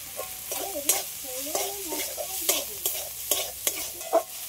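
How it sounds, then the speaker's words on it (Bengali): Prawns, banana flower and grated coconut stir-fried in a wok, with a steady sizzle broken by repeated scraping strokes of a spatula against the metal, close and fairly loud, with no voices. "এগুলো একটু হালকা করে কড়ার মধ্যে একটু নেড়ে নেব।"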